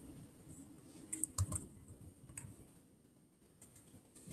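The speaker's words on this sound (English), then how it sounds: "Let me type that into my computer." Keys on a computer keyboard tap in a quick, quiet burst of clicks, followed by scattered lighter taps in a hushed room.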